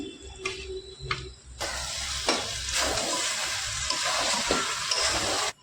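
Steam hisses from a pot of fish-head muri ghonto, first as short bursts and then as a steady loud, broadband rush that holds for several seconds before cutting off abruptly, close by and without speech.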